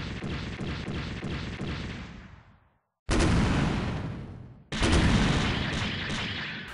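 Long-range cannon fire from a mobile suit in SD Gundam Online, heavy booming blasts that each ring out and decay, three big loud bursts separated by short silences, no talk.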